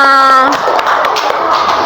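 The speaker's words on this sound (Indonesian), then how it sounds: "Tepuk tangan untuk kita semua" A fourth-grade class on a plant-parts lesson breaks into applause after a sustained tonal sound fades, a short burst of quick, close claps from many children with some voices mixed in.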